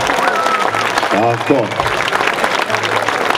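Audience applause at a folklore concert of groups from six countries, a short burst of clapping heard under someone speaking loudly over it.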